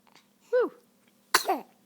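Two quick, close sneezes from one person, each a sharp voiced burst with a pause between them, heard over a faint steady hum.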